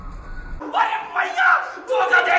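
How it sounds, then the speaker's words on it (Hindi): A dense crowd at Delhi's Chor Bazaar market, a busy street market selling shoes and secondhand goods, with loud overlapping voices and shouts close by in bursts, a low rumble dropping away early on. "और आगे देखो भीड़"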